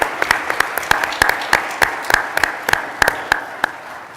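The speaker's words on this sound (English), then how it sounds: "So a round of applause for Haas and the association." Applause from a conference audience sounds as a steady, evenly paced series of distinct claps, moderately soft and heard alone without talk.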